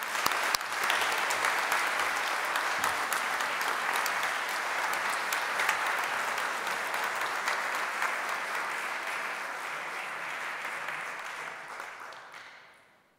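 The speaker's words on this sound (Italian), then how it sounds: "Bell'applauso." Sustained applause fills the hall at an honorary doctorate ceremony in Padova, a dense, even wash of many clapping hands lasting over ten seconds before fading out at the end.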